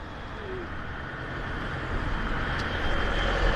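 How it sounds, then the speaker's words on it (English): Road traffic near a house makes a continuous broadband roar, heard from a moderate distance and swelling slightly louder toward the end, with no voices. "There is quite a bit of traffic though."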